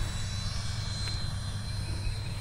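A model F4 Phantom jet on approach at an RC flying field, a faint steady whine with a low hum beneath, distant and constant throughout.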